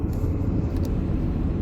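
Low, steady rumble inside a car, a constant muffled drone with no speech over it.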